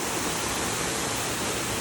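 Steady broadband rushing of water from a forest waterfall, close and loud, a constant roar without breaks or voices.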